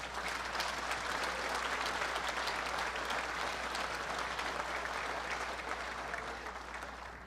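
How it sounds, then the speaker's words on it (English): Sustained applause from an arena crowd at a sports hall of fame evening, a steady dense wash of clapping that holds throughout and eases slightly at the end. "let's give them a big round of applause right now"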